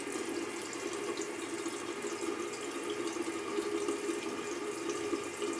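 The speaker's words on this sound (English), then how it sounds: "I'm typically doing this right over the sink, so I will rinse my hands a couple of times while doing this." Tap water runs steadily into a sink as hands are rinsed under it, a continuous soft splashing hiss at moderate distance with no voices.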